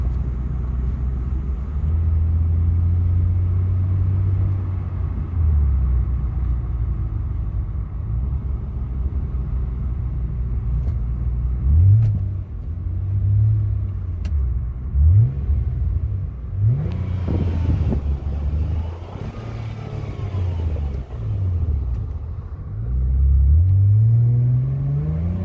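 A 2005 Nissan Maxima engine while driving, a steady low rumble from inside the car with several rising surges as it accelerates, then eases off and pulls again, fairly loud and continuous with no talk.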